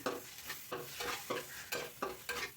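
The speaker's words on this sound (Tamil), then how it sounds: "கலக்கிட்டே இருக்கணும், இல்லைன்னா அடி பிடிக்கும்." Ginger garlic paste and tomatoes are stirred in a pan for chicken curry: about eight rhythmic scraping strokes, each a short swish, over a soft sizzle, fairly close.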